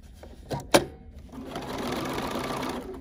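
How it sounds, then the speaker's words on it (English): A Bernina sewing machine fitted with a walking foot, a brief mechanical clack and then about a second and a half of steady, close whirring stitching. "and now I'm gonna stitch"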